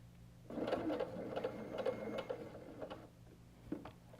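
Sewing machine stitching four-patch quilt coaster pieces, running in a steady mechanical whir with rhythmic needle ticks, close and moderately quiet, pausing briefly near the end.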